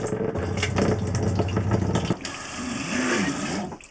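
Water pump in a Transit campervan cold water system, its motor whirring and cycling on and off as water flows, a steady rushing hiss that shifts midway to a higher, rising-and-falling tone.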